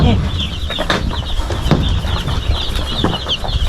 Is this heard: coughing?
no